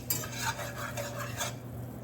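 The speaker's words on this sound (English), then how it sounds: "just stir it so I don't burn the flour" Soft scraping and swishing of a utensil stirring flour in a pan for southern gravy, with faint clinks over a steady background hum from a fan.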